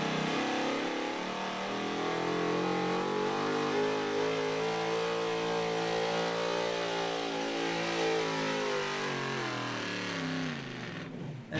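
A pulling truck at a truck and tractor pull in Cookport revs hard and accelerates down the track, a loud, sustained engine roar with rising and falling pitch that fades abruptly at the end.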